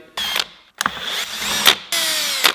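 A power screwdriver backs out Phillips screws from the license plate light on a Honda Grom motorcycle, sounding as three close, loud whirring bursts separated by short pauses.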